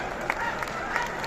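Audience applause in a packed hall in Patna at a BJP event welcoming the party's national president, a steady wash of clapping with a few sharper bursts, mixed with a voice.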